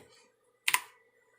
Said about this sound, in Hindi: अब इतना हो जाने के बाद आप अपने कीबोर्ड से प्रेस करेंगे Ctrl+J